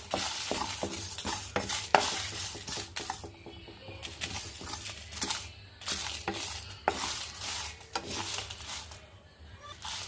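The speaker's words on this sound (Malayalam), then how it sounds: "ഇതൊന്ന് വറുത്ത് പൊടിക്കണം." Chilli, cumin, fenugreek and mustard seeds are dry-roasted in a hot pan, with repeated scraping stirs, light rattling of seeds and pops, and brief quieter pauses between bursts of stirring.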